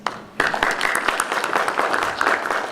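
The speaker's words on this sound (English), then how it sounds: "So please, one more time, a round of applause" Conference audience at an Arab Water Week session giving a round of applause, rising sharply into a dense, sustained spread of clapping from a room full of people.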